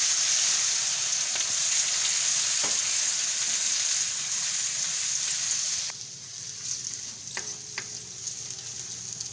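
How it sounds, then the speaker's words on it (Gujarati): Ginger-chili paste and asafoetida frying in a hot pan, a loud, steady sizzle that drops a little in intensity partway through, with a few faint clicks of stirring. "અને આદુ મરચાંની પેસ્ટ નાખી દેવું અને હિંગ નાખી દેવું"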